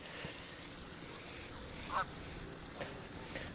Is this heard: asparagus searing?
no